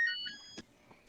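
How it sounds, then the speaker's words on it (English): A faint electronic beeping sits in the background, a thin steady tone that fades out within the first half second, followed by quiet room noise and a soft knock. "there's beeping in the background"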